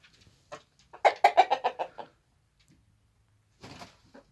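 Hens cluck close by in a quick burst of repeated notes, then a pause before another short cackle.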